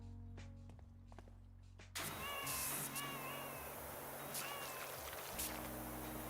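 A cat meows several times in PowerWash Simulator 2, with short rising cries over steady game ambience after a sudden jump in background noise, and a few soft thuds and footsteps.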